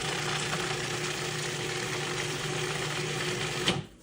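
A food processor whirs steadily, blending a thick vegan chocolate pie filling in one loud continuous run before cutting off abruptly near the end.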